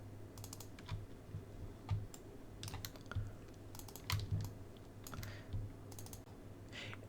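Faint, quick computer mouse clicks, some in double-click pairs, scattered irregularly during 3D modeling work over a quiet room background.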